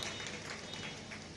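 An audience at a Jain religious discourse claps steadily, a soft, even patter of many hands sustained through the short moment.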